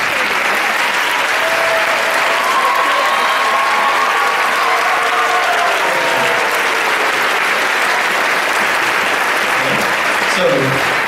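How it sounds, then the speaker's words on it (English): A school band audience at a middle school winter concert applauds the first chair players, steady loud clapping filling the whole stretch with crowd murmur and a few voices underneath. "let's give them a big, big round of applause"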